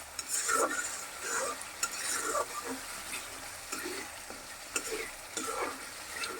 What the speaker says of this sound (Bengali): মশলাটা কষানো পর্যন্ত অপেক্ষা করি